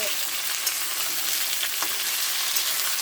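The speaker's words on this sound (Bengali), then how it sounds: "কুমড়ো ভাজাটা এখন হবে" Pumpkin slices sizzle in oil in a frying pan, a steady bright crackle with occasional stirring scrapes, fairly close and heard alone.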